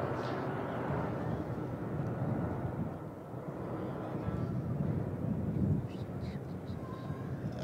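A low, rumbling drone of Agusta 119 border guard helicopters flying overhead fills the clip, steady and broad, with faint wind noise and distant murmuring voices beneath it.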